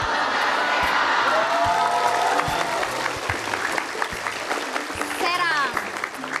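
A studio audience on an Indonesian TV talk show claps steadily and densely throughout, with a few cheers, while a voice speaks over the applause.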